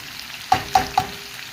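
Beef and potatoes fry in a pan under a quiet sizzle, with three quick, close scraping strokes of a spoon or spatula in a row.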